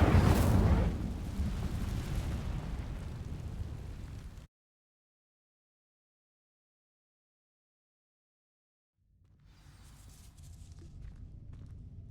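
A loud Incendio fire spell erupts in the Hogwarts Legacy video game, a dense roaring blast that rolls on for about four seconds and cuts to silence before quieter game ambience returns.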